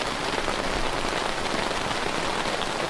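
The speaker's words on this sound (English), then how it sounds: "not only are we hearing the rain on the tent, we're hearing the sound of rain running underneath the tent" Heavy rain drums steadily on a tent, a dense, constant patter of drops with no pauses and no voices.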